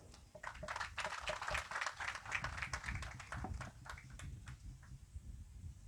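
Audience applause for a poet at a live Bhojpuri birha performance, a dense sustained burst of clapping that fills the whole stretch and fades slightly toward the end.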